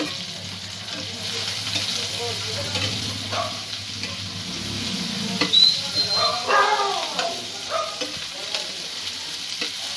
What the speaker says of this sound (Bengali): পেঁয়াজ আর রসুনটা একসাথে ভাজা করে নেব